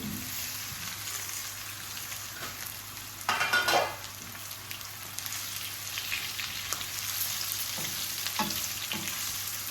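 Patra, rolled colocasia leaf slices, frying in oil in a pan, a steady close sizzle with stirring scrapes and a brief louder burst of crackling partway through.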